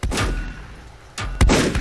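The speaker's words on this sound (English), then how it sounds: "I'm getting shot at!" Heavy gunshots in Volcanoids, a few loud booming blasts spaced apart with a quieter gap between them, close and with no talking.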